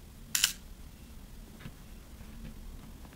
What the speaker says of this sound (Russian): Вот я взвел затвор, и вот я делаю спуск.